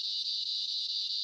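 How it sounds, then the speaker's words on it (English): Cicadas, locally called locusts, drone in a steady, loud, continuous buzz along an outdoor hiking road, with no pauses or talk. "Cicadas or whatever you call them. I was raised up calling them locusts."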